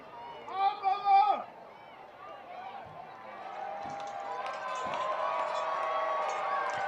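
A crowd in the stands at a minor league baseball game cheers as a man throws hot dogs into the stands. A voice speaks first, then the crowd noise rises and holds as a steady, moderately distant roar.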